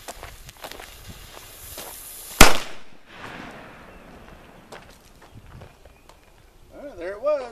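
A small black powder cannon fires at wood blocks outdoors with one sudden loud bang, a short rumble trailing off, then quiet scuffling and a voice near the end.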